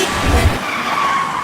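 A car skidding while driven badly, with a loud, sustained tire squeal and engine roar close up, filling the whole moment with no speech.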